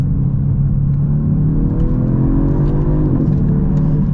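A Genesis G70 sedan's 3.3-litre twin-turbo engine pulls hard under acceleration, a loud, steady rumble whose pitch climbs smoothly with a faint whir on top, heard from inside the car with no talk.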